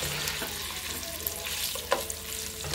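Kielbasa and bacon sizzle and fry steadily in a pan, a constant crackling hiss with a few sharp pops and the occasional scrape of stirring, close and fairly loud with no talking.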